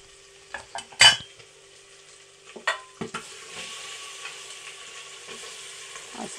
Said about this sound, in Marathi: परतून आता खालीवर परतून घेते मटणाला.